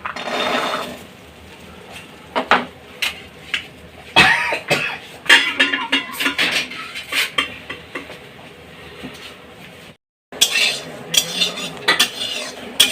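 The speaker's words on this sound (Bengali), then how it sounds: "খালি কড়াই, তেল ছাড়া খালি কড়াইয়ে মটরশুঁটিটা ভেজে নেব।" Green peas dry-roasting in an empty wok without oil, stirred with a utensil that clatters and scrapes against the metal in irregular bursts, with a short pause near the end.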